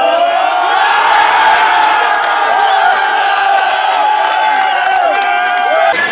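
A large crowd at an American football game at Tallaght Stadium, loud sustained cheering and shouting with whoops rising above the roar, continuous throughout.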